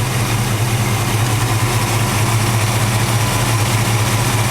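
A small engine with a working choke and high idle circuit settles into a steady, low idle, a constant close rumble with no voices.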